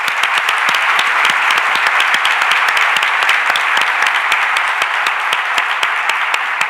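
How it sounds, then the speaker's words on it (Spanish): An audience at a book presentation claps loudly for an 88-year-old guest, a dense, sustained round of applause with sharp individual claps poking through, close and unbroken for several seconds. "La primera merece un aplauso"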